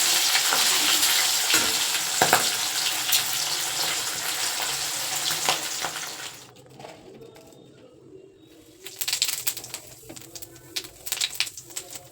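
Fish fries in a pan with a loud, dense sizzle and crackle for several seconds, then quietens, and bursts of spattering and stirring clatter return near the end.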